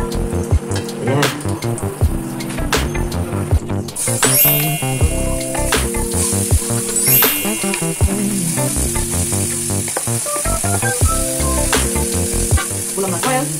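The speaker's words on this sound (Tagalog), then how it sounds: "Olive oil ang ginamit ko." Food sizzles and crackles in olive oil in a home kitchen pan, a loud, steady frying hiss with clinks and scraping from stirring layered over it throughout.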